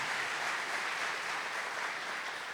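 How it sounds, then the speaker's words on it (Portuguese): A church congregation applauds during a worship service, a steady, dense wash of many hands clapping together at moderate distance, sustained without a break and with no speech over it. "Aplauda o sangue de Jesus"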